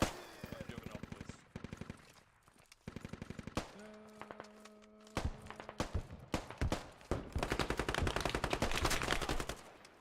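Gunfire in a first-person shooter game: bursts of rapid automatic shots and single cracks, loud and close, mixed with heavier impacts and footsteps, while players talk over the action.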